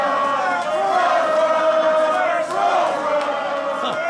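A packed wrestling arena crowd chants in two competing rhythmic waves, split between rival wrestlers Swerve Strickland and Matt Riddle, loud and sustained.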